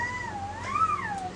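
A young child imitates a cat's meow, making one drawn-out, rising and falling vocal meow heard alone and close.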